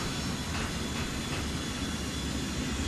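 An airplane in GTA 4's Ballad of Gay Tony gives a loud, continuous broadband roar with a faint steady whine. It is heard from the inside as engine and cabin noise, with no voices.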